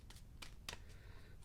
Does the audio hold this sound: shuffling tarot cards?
yes